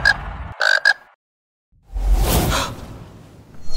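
Toads croaking in a fantasy drama scene, a couple of short loud croaks close by, then silence, followed by a whooshing burst of sound with low rumble.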